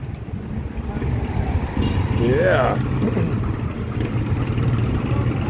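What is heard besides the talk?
street traffic with trucks and engines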